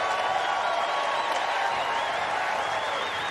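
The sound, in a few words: crowd applauding a runner at the Olympic Trials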